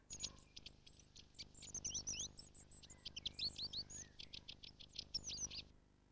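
A flock of long-tailed tits calls close by in a woodland or hedgerow setting, giving a busy run of high, thin, stuttering chirps and trills. The calls come in quick bursts with only brief gaps, and no voices are heard.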